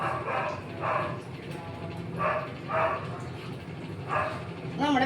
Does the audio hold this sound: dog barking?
yes